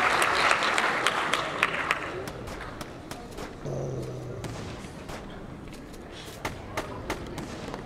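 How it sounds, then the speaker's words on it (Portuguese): Audience applause at the SBGames 2013 independent game festival awards ceremony, a dense clapping crowd with sharp individual claps, moderately loud and fading slightly over time, with a brief voice in the background. "Salve de palmas forte para a galera que está estudando."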